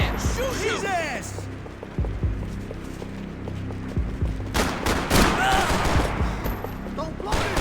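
Gunfire in Max Payne 3, with bursts of rapid shots and scattered single reports close by, mixed with shouting voices and game effects.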